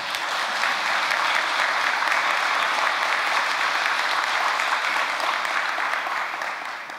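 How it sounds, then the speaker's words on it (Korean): A church congregation gives applause of thanks during a worship service, steady dense clapping from many hands that fills the room evenly throughout and tapers slightly at the end, with no voices over it. "천지인 참부님께 감사의 박수 올리도록 하겠습니다"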